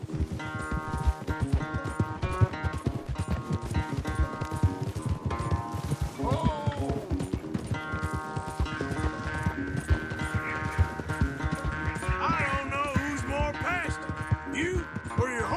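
Galloping horses in a Red Dead Redemption 2 race, steady rapid clip-clop hoofbeats running throughout alongside game music, with a brief whinny and occasional speech.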